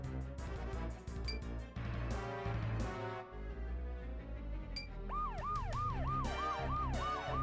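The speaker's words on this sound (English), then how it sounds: "That is an anachronistic siren." A wailing siren from the Sakura Wars So Long My Love video game rises and falls in repeated cycles toward the end, following a stretch of busy music and effects.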